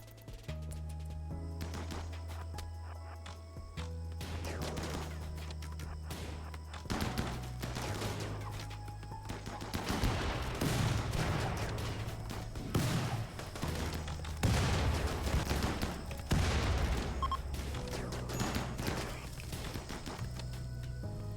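Gunfire and grenade blasts from the video game Rimworld in a raid against a poison faction, bursts of rapid shots and thumping explosions that grow denser and louder, with game music underneath.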